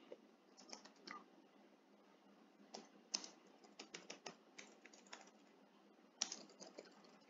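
Keys clatter on a computer keyboard in quick, irregular bursts of clicks, faint and close in a quiet room, with no talking.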